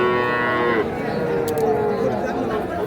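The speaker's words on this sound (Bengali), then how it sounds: "এটা একটা ষাঁড় বাচ্চা, ক্রস জাতের।" A three-month-old crossbred bull calf moos loudly and close by at a cattle market in Ambari, a long drawn-out call that fades into crowd chatter and market bustle.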